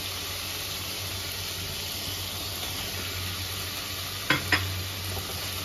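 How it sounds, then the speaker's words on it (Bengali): Grated paneer and mashed jackfruit stirred into spices frying in a pan, a steady close sizzle with soft stirring and two sharp utensil knocks near the end. "এবার মশলার সাথে ভালো করে মিক্স করে নেব।"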